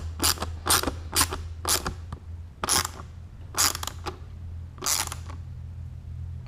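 A nylock nut is turned onto a screw by hand, giving a series of short, close creaking and ratcheting bursts in irregular rhythm over a low background hum.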